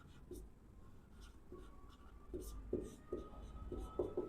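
A pen writing on paper while a maths book exercise is solved, with soft repeated scratchy strokes that come in short bursts and grow slightly louder toward the end, close and quiet.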